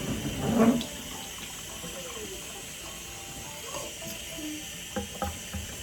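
Tap water runs at a kitchen sink, rinsing aloe out of a child's hair, a steady faint hiss and trickle with a louder splash near the start and small drips and clatters later.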